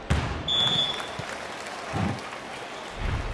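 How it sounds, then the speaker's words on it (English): Stadium crowd in the Spike Volleyball video game, a loud continuous roar with thumping bangs on the stands, plus a brief whistle-like tone early on. "The crowd sounds like they're breaking the stadium."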